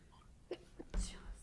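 A single faint sneeze with a quick breathy build-up during a school committee meeting, short and isolated against a quiet room.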